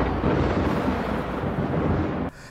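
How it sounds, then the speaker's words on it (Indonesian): Deep rolling thunder rumbles loudly and continuously through a storm for a couple of seconds before cutting off abruptly. "Gemuruh petir yang menyambar membuat gadis itu terkejut hingga terbangun dari mimpi panjang."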